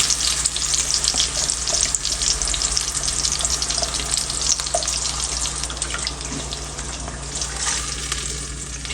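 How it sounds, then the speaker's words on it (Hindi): Tomato and onion masala frying in hot oil in a pan, giving a loud, steady, dense sizzle that runs unbroken throughout, with a few faint stirring clinks and no talk. "वही ऑयल डाला है जिसमें फ्राई किया है। तो उसमें अब हम ये डाल देते हैं मसाला"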